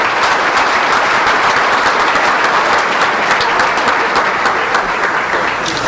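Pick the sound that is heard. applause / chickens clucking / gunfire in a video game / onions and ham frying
applause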